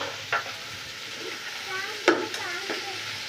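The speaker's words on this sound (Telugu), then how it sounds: "ఉల్లిపాయలు ఫ్రై చేస్తున్నా" Onions frying and being stirred in a pan, a steady sizzle with a few sharp scrapes of the spoon against the metal, close and fairly quiet with no talking.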